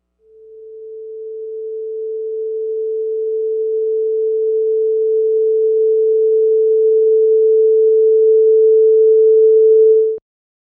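A pure steady sine tone swells gradually from silence to full loudness over about ten seconds, then cuts off abruptly.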